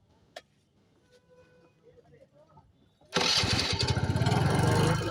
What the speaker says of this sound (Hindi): एक नंबर स्टार्टिंग इसका हो गया है। जुपिटर बाइक है।